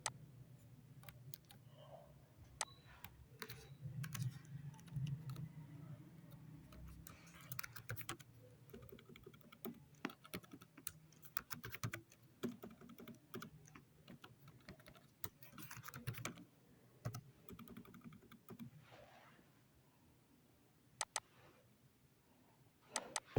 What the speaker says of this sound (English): Here I can type the email, right?